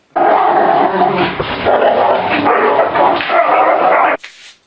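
Several game dogs barking and yipping in a continuous, loud, close-up jumble, with a brief higher-pitched sound cutting in at the end.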